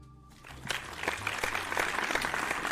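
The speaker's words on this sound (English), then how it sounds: "Round of applause." An audience at a live variety show breaks into applause after a moment of quiet, keeping up a steady, moderate clapping with scattered sharper claps.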